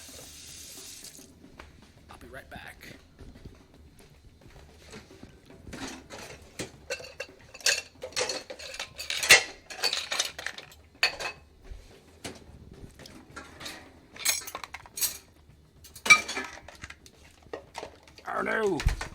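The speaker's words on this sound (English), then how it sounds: "It's the midstream couple of dishes I gotta do here like I do every week." Dishes and a pot are washed in a kitchen sink, with running tap water, scattered clinks of cutlery and the clatter of pots. A person speaks briefly over the washing.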